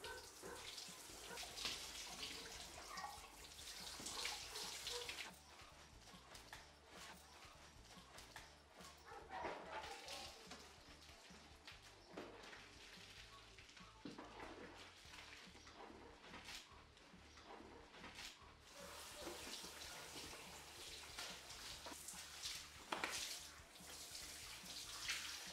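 Water runs steadily from a tap into a tub while a dog is bathed at a boarding kennel, with splashing and sloshing throughout and an occasional faint dog sound; no one speaks.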